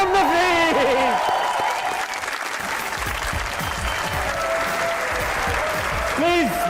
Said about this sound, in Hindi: तालियां बजाने पे नहीं लगती है कोई फीस, तो बजाइए